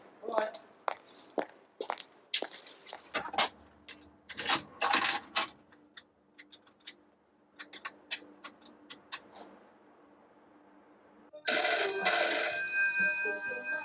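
Near its end, a telephone bell rings out loud and sustained, following a stretch of scattered clicks and knocks that sound like handling a phone box receiver and coins.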